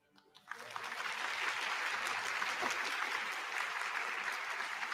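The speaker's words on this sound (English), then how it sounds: "Another round of applause for Dr. Atua, please" Applause from a conference audience swells in after a brief pause and holds as a full, steady wash of clapping, with faint voices underneath.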